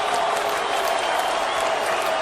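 A San Jose hometown crowd roars with steady, dense cheering and applause after Cung Le's knockout win at an MMA event, a loud, unbroken wall of noise filling the arena.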